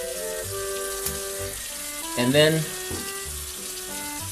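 A tap runs into a sink in a Paris apartment where laundry is being washed by hand, giving a steady close hiss of water beneath a brief spoken remark.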